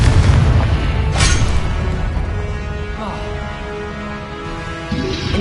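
A Confringo spell in Hogwarts Legacy on PS5 goes off with a deep booming blast. A sharp crack follows, and then a rumbling decay over steady low game ambience.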